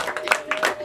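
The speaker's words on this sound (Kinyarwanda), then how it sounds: "Amashyi n'impundu rwose" Guests at a small wedding of about thirty people clap in a quick, uneven burst of sharp hand claps lasting under a second, fairly close.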